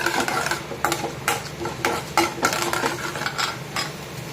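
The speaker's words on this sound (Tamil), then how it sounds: "கடுகு நல்லா பொரிஞ்சு வரட்டும்." Mustard seeds, urad dal and chana dal sputter in hot oil for ragi semiya upma, a dense steady crackle broken by repeated sharp stirring scrapes close by.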